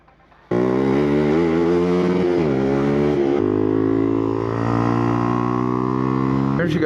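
A motorcycle engine holds a steady, loud drone close by, its tone shifting slightly as the rider works the throttle during a first attempt at a wheelie, with a brief dip midway.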